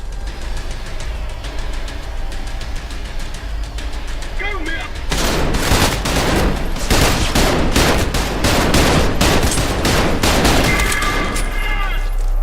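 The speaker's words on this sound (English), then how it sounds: "I tried to shoot that guy in the leg, but I just could not hit his bloody leg. These guns are really hilariously inaccurate." Gunfire from the first-person shooter Trepang2: loud, rapid bursts and sustained automatic firing crack repeatedly over a background din, growing dense and heavy midway through.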